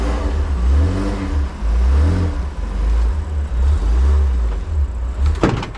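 A car engine revs and idles loud and close as the car is eased forward a short distance, with a steady low rumble and a rising burst of revving near the end.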